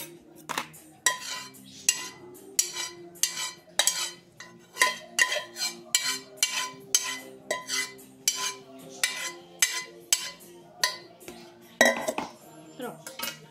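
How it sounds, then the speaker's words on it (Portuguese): A spoon beats a mixture in a bowl, knocking rapidly and rhythmically against the bowl in dozens of close, crisp clinks and scrapes; no one speaks. "Agora eu vou bater. Vou bater com essa colher aqui."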